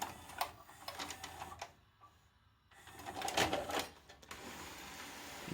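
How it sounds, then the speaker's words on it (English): A VCR ejecting a VHS tape through sticky loading spindles gives a run of close mechanical whirring and clicking. A short lull follows, then another burst of motor and gear noise. "So what we do first is we have to eject the tape back out."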